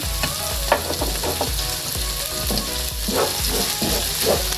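Shrimp paste (alamang) is sautéed in a pan for Bicolano laing, a dense, continuous sizzle with repeated stirring scrapes, no voices.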